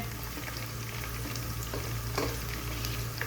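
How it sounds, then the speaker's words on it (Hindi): Hot oil in a pot for chicken dum biryani sizzles and fries with soft stirring sounds, steady and fairly faint, with no talking. "इसको थोड़ा सा हम लोगों ने फ्राई करना है"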